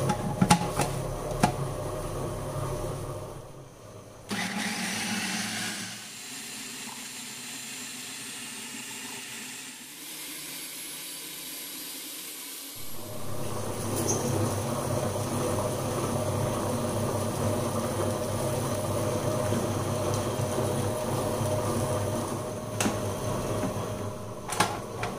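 An electric mixer grinds onion and peeled ginger pieces, its motor whirring in a steady loud drone that drops off and then restarts, running continuously for a long stretch.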